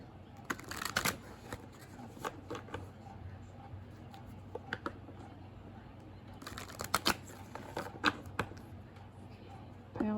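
Moonology oracle cards shuffled by hand in repeated crisp riffling bursts, close and clear, with a pause between two rounds of shuffling.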